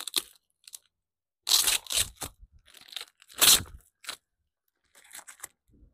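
A package opened by hand without scissors, giving short bursts of crunching and tearing of wrapping separated by quiet gaps, close and fairly crisp.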